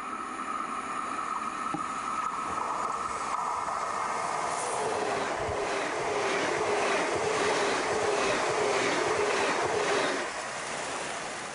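A DB Class 424 electric multiple unit train running in Hannover, heard as a steady, loud rolling rumble with a rising motor whine that holds for about ten seconds before easing off.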